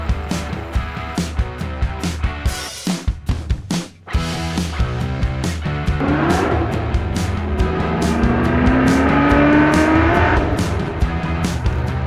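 A 1983 Nissan Patrol, a barn find revived after years in storage, on a test drive: a loud, steady engine drone that drops briefly, as if during a gear change, then rises again with rising whine.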